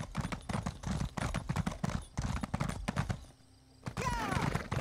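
Horse hooves galloping in the video game ESO, a fast, steady clatter of close hoofbeats that stops briefly near the end before resuming alongside a faint whistling sound.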